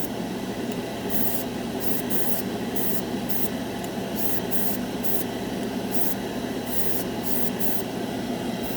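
A spray gun at about 20 psi with a number 4 needle lays down Splash Paints metalizer lacquer, a loud, steady hiss that fills the whole stretch, briefly dipping and returning in short irregular bursts.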